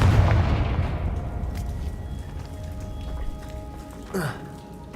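Fire spell Confringo cast in the video game Hogwarts Legacy: a loud blast opens, then trails into a crackling, rumbling decay with a short whooshing burst near the end, with no one talking.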